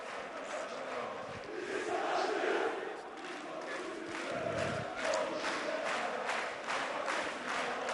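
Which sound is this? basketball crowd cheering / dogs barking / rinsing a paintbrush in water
basketball crowd cheering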